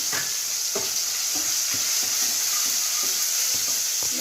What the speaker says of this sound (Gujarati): મસાલાને થોડો સાતળવા દઈએ.